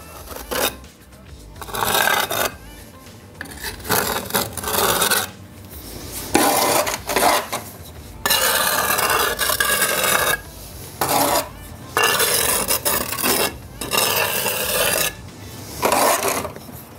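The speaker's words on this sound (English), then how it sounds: "all I do is scrape your joints off like that." Mortar joints scraped off fresh brickwork on a maple syrup evaporator arch, a rasping scrape repeated in bursts of one to two seconds with short pauses between them, close and fairly loud, no talking.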